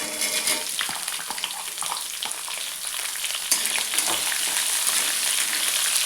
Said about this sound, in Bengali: এটাকে একটুখানি হালকা লালচে করে আমি এই পেঁয়াজটাকে ভেজে নেব।